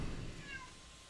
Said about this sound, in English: Sorry about the cat crying again, guys.